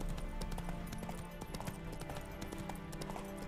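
Horse hooves clip-clopping at a steady galloping rhythm in The Witcher 3, loud and close, with game music and ambience running underneath.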